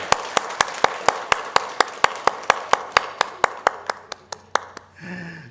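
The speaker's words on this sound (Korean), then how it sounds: "우리 박수로 한번 환영하도록 하겠습니다" About twenty evenly spaced sharp claps ring out in a church to welcome a returning member, crisp and close, slowing slightly toward the end before a voice speaks.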